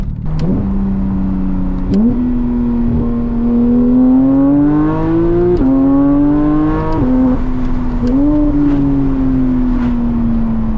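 A Porsche GT3 engine with PDK gearbox in Sport mode and exhaust open accelerates hard and close, its pitch climbing in steps as gears shift up several times with brief dips between.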